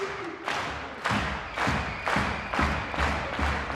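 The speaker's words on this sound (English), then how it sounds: "Look how the people clap for the reptiles." A wrestling arena crowd claps in unison in a slow, heavy rhythm, with loud periodic thuds roughly every half second and a dense crowd wash between beats.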